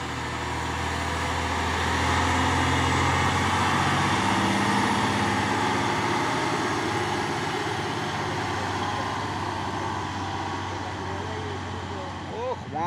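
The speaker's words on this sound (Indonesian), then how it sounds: "Truk Hino Box." A Hino box truck climbs a steep hill with its engine droning loud and close, holding a heavy, steady rumble that eases slightly toward the end, with voices talking underneath.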